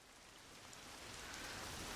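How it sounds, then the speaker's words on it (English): Rain from the soundtrack of the 2003 film Memories of Murder fades in as a soft, even hiss of falling drops that grows steadily louder, with no voices. "he fades in the rain, mostly just the rain"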